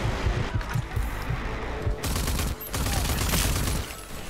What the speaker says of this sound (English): Near constant explosions.